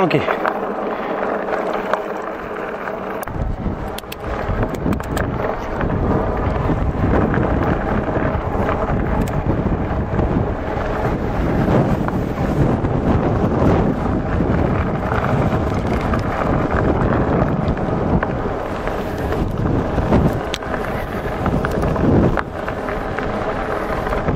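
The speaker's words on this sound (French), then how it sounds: "Il y a un vent de folie" Strong wind roars across the microphone while someone rides a Himiway Cobra electric fat bike with suspension outdoors, a constant loud buffeting rumble throughout, with a person speaking at times over it.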